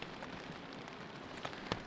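Rain falling at a spring campsite in Algonquin, a soft steady hiss with a few distinct drops tapping nearby, faint and continuous with no talking.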